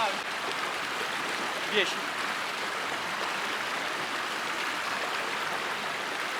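A mountain river flows in the Dolomites, with a steady broadband rush of water running throughout, close and fairly loud, and a brief voice near the start.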